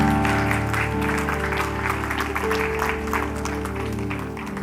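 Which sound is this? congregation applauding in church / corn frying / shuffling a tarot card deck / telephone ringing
congregation applauding in church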